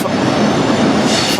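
Train at Dundee station on the East Coast Main Line rumbling steadily close by, a continuous loud mechanical roar with a faint wheel clatter throughout.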